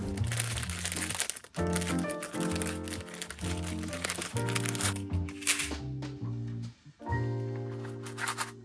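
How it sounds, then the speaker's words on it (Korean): Plastic pasta packaging is torn open lengthwise with crisp crinkling and rustling, heard under steady background music with no voices. "이런 거 비닐 개봉할 때 이렇게 옆으로 길게 비닐 뜯어야 편한 거 아시죠?"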